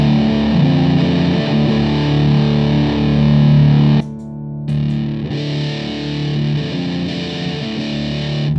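Electric guitar played through a JHS Muffuletta fuzz pedal, thick sustained distorted chords ringing loud, briefly cutting out for a moment before the fuzzy tone returns.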